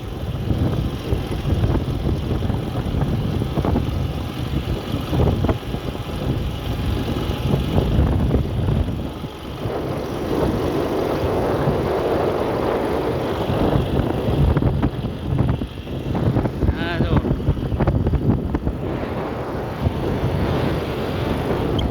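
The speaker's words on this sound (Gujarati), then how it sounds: "જેમ કે રણ ખુલ્લું છે કે નહીં એટલે પવન રહેવાનો" Steady wind buffets across an open desert landscape, a continuous loud rushing roar with gusty swells throughout, no talking over it.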